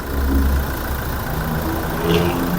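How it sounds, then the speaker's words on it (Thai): The engine of a 2019 Toyota Hilux Revo idles with a smooth, steady low rumble, heard close and continuous with no revving or speech. "เครื่องยนต์เดินนิ่งเงียบ"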